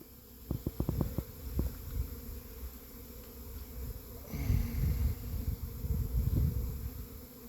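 A honeybee buzzes right in front of its hive, close to a phone held at the entrance, with a few sharp bumps early on and a low, steady hum that swells toward the end.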